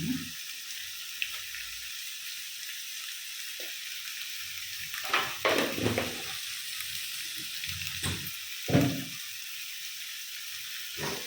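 Food frying with salt in a hot pan for an egg fry dish, a continuous soft sizzle broken by a few scraping stirs and clatters. It is close and moderately quiet, and no voices are heard.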